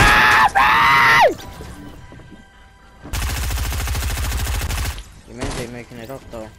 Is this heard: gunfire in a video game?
yes